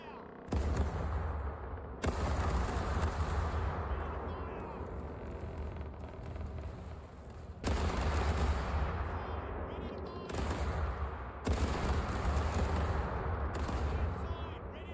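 Heavy ship cannons from the Caribbean Legend video game fire in several loud, booming volleys, each a sharp blast with a long rumbling decay, spaced a few seconds apart.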